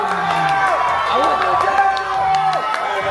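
Spectators at a natural bodybuilding competition in France whoop and cheer in a continuous, overlapping roar, with shouted voices rising and falling through the noise.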